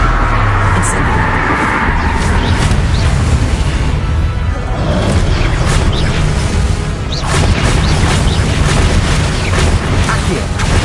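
Loud, booming bursts and whooshes fill the clip as the Incendio fire spell is cast repeatedly in the Hogwarts video game, several crashing blasts close together over a dense rumbling game soundtrack.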